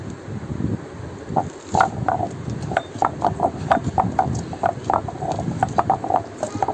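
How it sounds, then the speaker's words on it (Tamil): Garlic is ground to a fine paste in a village-style stone grinder while mutton curry is being prepared, giving close, steady rhythmic knocking and scraping strokes. "அடுத்தது இஞ்சி ஆட்டி எடுத்த பிறகு பூண்டு, இதையும் நல்லா நைஸாக ஆட்டி எடுக்கணும்."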